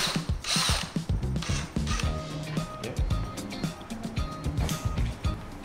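Screws being backed out of the mudguard on a Dualtron Mini electric scooter with a power driver give a steady whirring and ratcheting buzz that runs close and loud for several seconds, with short pauses between screws.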